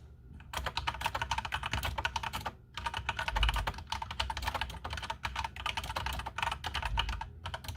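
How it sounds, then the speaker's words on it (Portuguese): Rapid clacking of a HyperX Alloy Elite 2 mechanical keyboard being typed on in bursts with short pauses, close and crisp. "para aqueles que gostam de ouvir o som do teclado"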